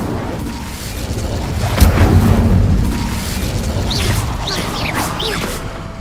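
Incendio fire spells cast in Hogwarts Legacy burst with a heavy whooshing boom, followed by crackling flames and whistling magical streaks, loud and close.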